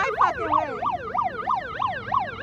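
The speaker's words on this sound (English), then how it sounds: "Again with that stupid siren." An emergency vehicle siren sounds up close and loud, sweeping quickly up and down in a fast, regular yelp that repeats throughout.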